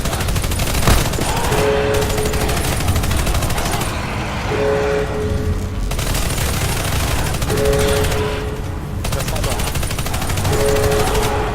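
Continuous automatic gunfire in a video game, with loud rapid machine-gun bursts filling the whole stretch, broken by brief tonal cues, while players speak briefly under the noise.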